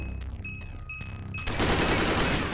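A shotgun fires in the shooter game Dead Effect 2, with a few sharp tonal weapon beeps followed by a loud, dense burst of blast noise, close and alone with no talk.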